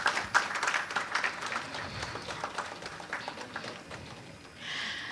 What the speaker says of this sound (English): let's give him a round of applause as he exits